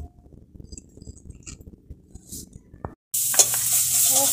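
Crabs frying in a pan over a wood-burning stove, a loud steady sizzle that starts abruptly after quieter stirring and clinking, with no talk.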